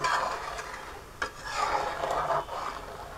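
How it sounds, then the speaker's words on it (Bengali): Homemade condensed milk stirred continuously in a pan over medium heat, making a steady scraping and rubbing sound with regular strokes, close and fairly loud, with no voices. "এখন অনবরত নাড়তে থাকবো।"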